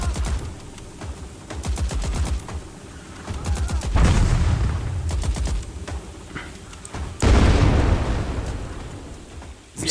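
Bursts of rapid gunfire crackle alongside heavy booming explosions in the video game Ratten Reich, a loud chaotic battle with rattling volleys and big blasts near the middle and end.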